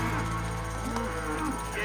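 Cattle on an Alabama ranch low in a steady, continuous drone of moos and herd noise, fairly close, with no clear talk over it.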